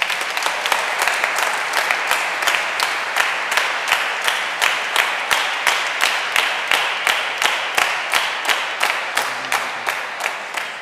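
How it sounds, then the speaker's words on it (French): A church congregation at a Sunday Mass in a convent claps together in a regular, rhythmic beat, dozens of sharp unison claps at a steady tempo, loud and close, with no talking. "nous pouvons applaudir le Seigneur pour cela"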